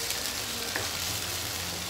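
Chicken sizzles in a frying pan with water just added, a steady loud hiss and crackle of frying that fills the short stretch, with faint stirring underneath and no voices.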